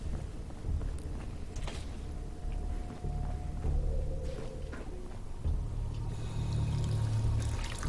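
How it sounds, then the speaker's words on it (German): Water pours and trickles steadily in Fallout 4, a continuous splashing stream over low rumbling game ambience, moderately loud and without speech. "Ja, frisches Wasser aus dem Wald."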